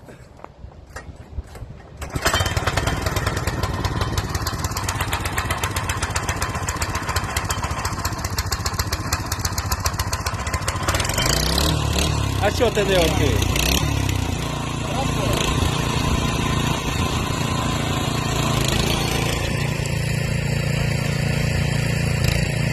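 An old motorcycle engine sputters to life and keeps running at a steady, loud idle with revving changes, while people talk nearby.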